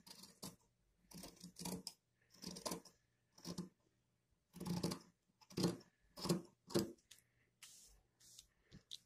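Scissors cut cloth for a fabric face mask in short, close, crisp snipping bursts, several rounds of cuts separated by brief quiet pauses, with no talking.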